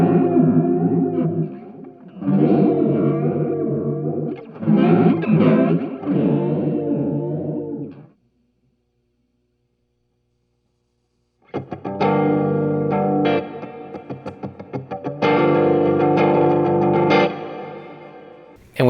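A TCE Vortex Mini flanger pedal sweeps an electric guitar through a swirling, jet-like flange, in two loud strummed phrases split by a few seconds of silence, with no talking.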